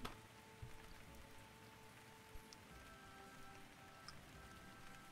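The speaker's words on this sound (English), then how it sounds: "Sound of the rain splashing down on the ground." Steady rain splashes down on forest ground in the medieval MMO game Life is Feudal, a soft continuous patter with occasional louder drops and a faint tonal hum beneath, no voices.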